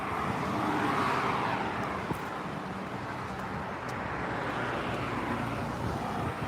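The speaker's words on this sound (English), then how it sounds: "that was a Porsche 911" A Porsche 911 sweeps past on a city street in Singapore, a loud, steady roar that swells and fades against continuous traffic noise, with no talking.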